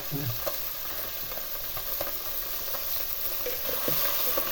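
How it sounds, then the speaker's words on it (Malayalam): Mutton fries in oil with a steady, close crackling sizzle that holds even throughout, with faint stirring clicks and scrapes mixed in and no speech. "അങ്ങനെ നമ്മുടെ മട്ടൻ ഇപ്പം ഫ്രൈ ആയിക്കൊണ്ടിരിക്കുകയാണ് കേട്ടോ"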